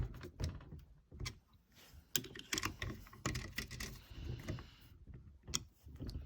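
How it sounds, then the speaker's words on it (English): Bolts being tightened on a pneumatic press, heard as a close, irregular series of sharp clicks, taps and ratcheting knocks with brief gaps, fairly quiet and with no talking. "carefully tighten up these two bolts again"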